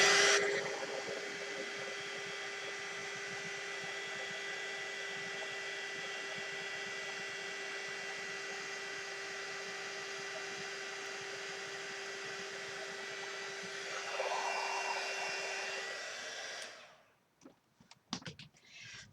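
Heat tool melting embossing powder for multi-colour embossing: a steady, loud blowing whirr with a constant hum, running continuously for about sixteen seconds before switching off.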